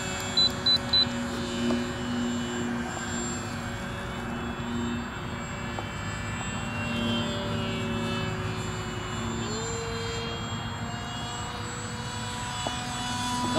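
Model UAV aircraft on its maiden flight, a continuous droning motor whine with shifting pitch that stays at a fairly steady distance. A few short beeps come at the start.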